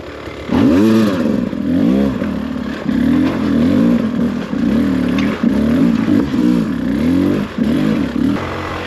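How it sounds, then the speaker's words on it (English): A dirt bike engine revs hard in a quarry, loud and close, its pitch repeatedly climbing and dropping through a series of throttle blips and gear changes with no speech. "I can hear his bike"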